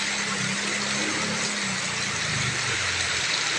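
A motorcycle idles close by on a flooded village street, its engine putting out a steady, low rumble over loud constant rushing noise.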